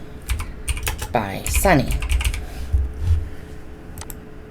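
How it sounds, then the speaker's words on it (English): A computer keyboard is typed on in quick bursts of close, crisp key clicks, with a person speaking over part of the typing. "perhaps I do want to type something"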